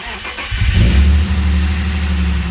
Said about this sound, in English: I'll give it some throttle.